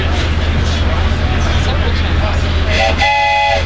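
An Amtrak Ethan Allen Express passenger train on its inaugural run from Burlington, Vermont: steady rolling rumble, then a whistle sounds clearly near the end, with people talking over the train noise.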